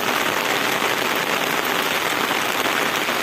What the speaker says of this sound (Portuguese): Ó, aqui já tá correndo água.